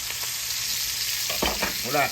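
A trout fillet sautéing in a pan is flipped, a steady sizzle of hot fat with a few short bursts of spatter and scraping as the fish turns over.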